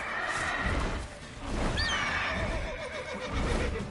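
A horse in The Witcher 3 video game whinnies loudly, a single drawn-out neigh rising over busy in-game ambience with faint hoof clip-clop during a griffin encounter.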